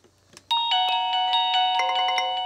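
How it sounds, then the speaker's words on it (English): A Reolink video doorbell rings with a bright, sustained multi-tone chime that starts abruptly after a brief soft tap, holding loud and close with repeated struck accents for about two seconds. "We have the doorbell ringing and we have the critical alert."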